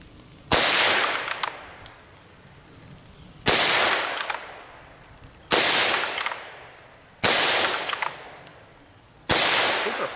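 Five sharp, close rifle cracks from a Savage 93R17 in .17 HMR, about two seconds apart, each with a bright crack and a short trailing echo, loud and alone with no speech.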